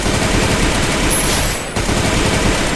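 Rapid automatic gunfire from the shooter game Free Fire, a loud continuous burst that briefly drops out near the middle before resuming, up close and without talk.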